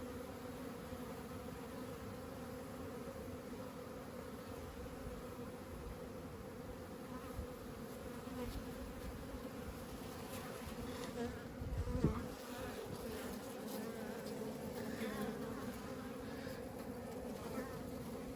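Honeybees hum steadily at an opened hive during an early spring colony split, a continuous close drone with a few louder passes from single bees near the microphone.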